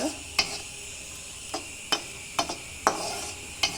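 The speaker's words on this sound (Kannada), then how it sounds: "ತುಪ್ಪದಲ್ಲಿ ಇದು ಮಾಡಿ ಕರ್ಕೋತಾ ಇದ್ದೀವಿ, ಅಂದರೆ ಫ್ರೈ ಮಾಡ್ಕೋತಾ ಇದ್ದೀವಿ" Bottle gourd halwa fries in ghee while a spoon strikes the pan in sharp, irregular taps, about seven clinks over a soft, steady sizzle.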